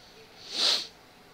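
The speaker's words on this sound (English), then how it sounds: "I will attempt to cut back on the sniffling and the mouth breathing today" A person sniffles once, a short, close breathy nasal intake that swells and fades over about half a second against a quiet background, on a hot day.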